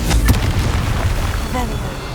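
Blasting spell explosion in the Hogwarts Legacy video game: a loud booming burst up front with a sharp crack, then a rumbling tail of debris and game ambience lasting a couple of seconds.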